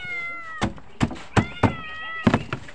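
A cat meows repeatedly and loudly up close, five or six short sharp cries spaced about half a second apart.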